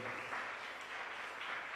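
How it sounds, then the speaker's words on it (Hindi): An audience claps in welcome at a gathering, a sustained, fairly faint wash of many hands clapping that continues evenly throughout. "जोरदार ताली बजाकर स्वागत करें।"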